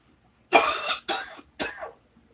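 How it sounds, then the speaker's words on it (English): Three wet, phlegmy coughs from a person recovering from a chest illness, loud and close, in quick succession with short gaps, alone without speech. "It's a wet cough now, and I'm actually getting things out of my lungs."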